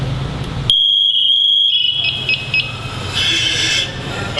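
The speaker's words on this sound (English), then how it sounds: "Set off my pass alarm." The PASS alarm on an SCBA unit sounds during an inspection: a sudden, piercing electronic tone starts up and holds, then breaks into rapid, shifting beeps. It is loud and close, with a low rumble underneath.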